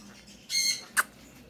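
A Quaker parrot lets out a loud, harsh squawk lasting about a quarter second, then a short, sharp second squawk, both close by in a quiet room.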